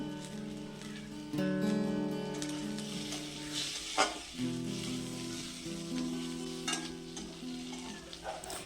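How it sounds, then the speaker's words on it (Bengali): Diced potatoes with salt, turmeric and chopped green chillies sizzle and fry in a pan for a leafy bottle-gourd greens dish, a steady close crackle with stirring scrapes and a few louder clatters. "আলুগুলোকে বেশ ভালো করে ভেজে নেব।"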